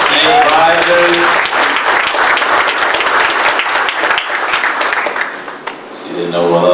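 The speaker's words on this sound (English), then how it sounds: "Give Connie a big round of applause." An audience at a luncheon and awards event bursts into loud sustained applause, a broad wash of clapping that fades slightly before a voice speaks again near the end.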